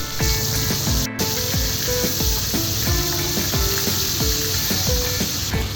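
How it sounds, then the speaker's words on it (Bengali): Hilsa fish frying in mustard oil at a riverside beach eatery, a dense steady sizzle laid over busy clattering and tonal background noise from the surrounding place. "এই ভাজার শব্দ শুনে এখনই খেতে ইচ্ছে করছে"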